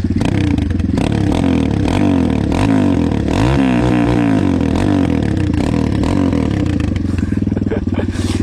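An Apollo Sano DMZ 250 dirt bike, kick-started, idles and revs up close and loud, a rough, fast single-cylinder thrum with rising and falling blips and a steady throb throughout.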